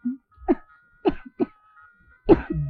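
Several harsh coughs in a row, close and fairly loud, separated by short pauses, with a faint steady tone in the background.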